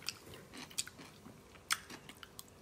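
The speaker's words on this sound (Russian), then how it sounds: "Хрустящий? Очень хорошо хрустит. Огурцы с хреном." Crunchy pickled cucumbers with horseradish bitten and chewed close up, a few crisp crunches followed by quieter chewing, with no talking.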